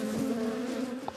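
Honey bees in hive frames produce a steady, dense, low-pitched buzz that holds throughout, close and moderately loud.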